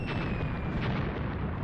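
Gunfire poured into an enemy trench system in the wargame Graviteam Tactics: Mius Front, a dense, continuous rumble of distant shots and bursts blending into a steady roar.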